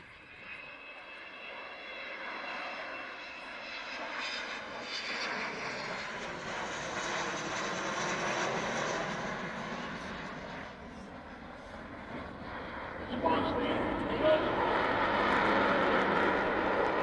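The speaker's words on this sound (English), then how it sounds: "the aircraft on the far side of the airfield, Vulcan XM607. Coming back in towards us now" An Avro Vulcan XM607 jet bomber flies around an airfield with a deep, broad roar that builds and swells as it heads back toward the listener. The sound grows noticeably louder near the end, with no talk over it.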